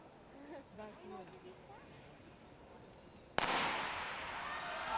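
A starting pistol fires once at an athletics race at the Luis Puig stadium in Valencia during the Gran Premio Ciudad de Valencia: one sharp crack after a stretch of distant commentary and murmur, then a loud, sustained crowd roar.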